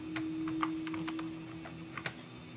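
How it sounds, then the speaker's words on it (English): Password typed on a computer keyboard, a quick run of light, close key taps with a couple of slightly firmer presses near the end, over a low steady hum. "And I'm going to type in my password."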